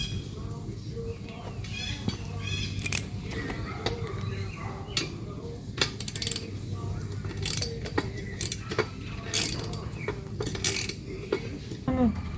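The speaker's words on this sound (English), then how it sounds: "Ratchet." A ratchet is cranked while a DIY hunting tree stand is built, giving irregular sharp clicks and metallic clatter in uneven bursts, with faint talk in the background.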